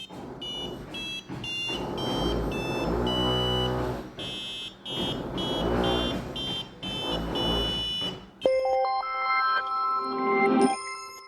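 Piezo buzzer on an Arduino-based Pianoduino with capacitive touch sensors, playing a do-re-mi musical scale as a series of harsh electronic square-wave tones, loud and close, then a brief burst of higher beeps at the end.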